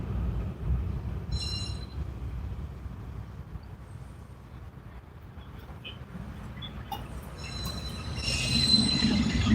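A train rumbles past with steady low roar, while high metallic wheel squeals ring out intermittently and grow louder toward the end.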